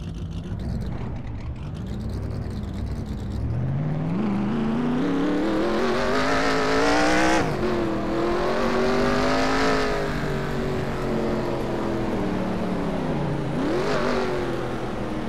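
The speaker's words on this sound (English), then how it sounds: "Drivers, start your engines!" Race car engines roar in the Nascar Racing 2003 Season video game, a loud, continuous pack drone whose pitch climbs steadily as the cars accelerate, with brief dips at shifts and no talk.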